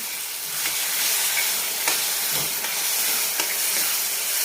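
Shahi paneer masala sizzles and fries in a pan with curd, a constant loud hiss close by, broken by a few soft stirring scrapes and no talk.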